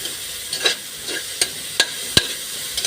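Sautéing in a pan for ginisang tahong, a Filipino mussel dish: a soft, steady sizzle with several sharp, bright clinks of a utensil stirring against the pan at irregular intervals.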